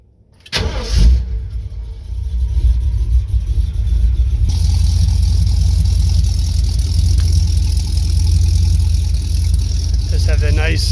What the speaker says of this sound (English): Nice, smooth running big block 460.